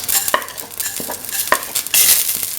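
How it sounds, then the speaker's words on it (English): Fenugreek seeds popping and sizzling in hot oil in a pan, a soft frying hiss broken by a few sharp, distinct pops, close and loud. "Let the fenugreek seeds pop. Once they start popping, put in the fennel seeds"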